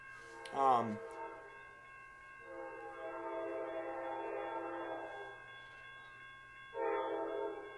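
An Amtrak train horn sounds for crossings in a long sustained blast, then a shorter second blast, heard from some distance with a faint steady hum underneath.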